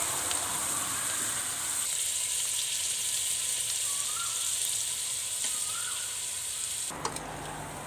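Pork hip meat is stir-fried in curry paste in a hot pan, giving a loud, constant close-up sizzle that runs throughout. A brief clatter comes near the end.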